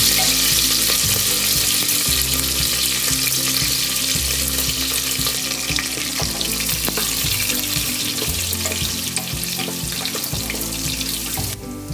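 Garlic, ginger paste, curry leaves and a split green chili frying in oil, a dense continuous sizzle laid over a low rumbling, rhythmic background with faint stirring clinks, no speech.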